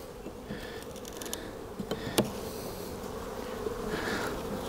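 Honeybees at an open beehive during a spring inspection hum steadily, a soft continuous buzz with a few louder close passes, no talk.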